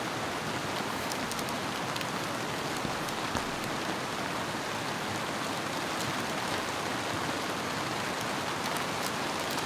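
Heavy rain drums steadily on a small ultralight tent during a camping trip beside a swollen river, a dense, continuous hiss with scattered sharper drops, close and loud, with no talking.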